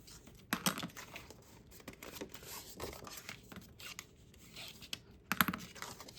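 Paper flap on a 6x8 folio album being burnished after folding, a series of soft scratchy rubbing strokes and light taps close up, quiet and uneven with no voices.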